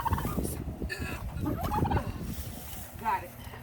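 Turkeys gobble on a winter homestead, their rapid warbling calls coming in several bursts against outdoor clatter and movement noise, fairly close.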